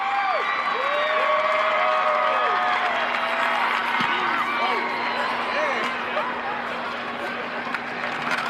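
Football stadium crowd cheering in a sustained roar with scattered whoops, heard under a commentator's ongoing voice.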